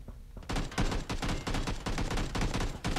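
Dense automatic gunfire erupts in a PUBG squad match on Xbox One, rapid loud bursts stacking into a near-continuous barrage after a brief quiet start.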